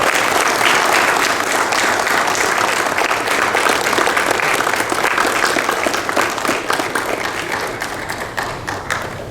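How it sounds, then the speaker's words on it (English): Sustained applause from an audience at a formal felicitation ceremony honouring a judge, dense and fairly loud clapping filling the whole stretch, easing slightly toward the end. "A big round of applause."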